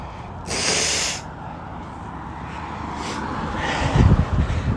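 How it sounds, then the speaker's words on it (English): A runner on a rural gravel road by a lake blows their nose, with two close forceful hissing snorts a few seconds apart over wind and footstep noise. "I gotta blow my nose off."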